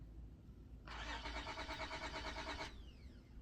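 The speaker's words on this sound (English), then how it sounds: "Start the car from the window button." A car engine cranks and catches, a steady mid-pitched pulsing churn of the starter lasting under two seconds, then dropping to a quieter running hum, heard fairly close with no talking.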